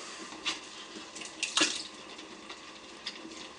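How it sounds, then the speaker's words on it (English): Water runs from a kitchen tap while pasta sauce is being cooked, a steady close hiss with a few brief splashes and clinks partway through. "I'm just going to get a bit of water."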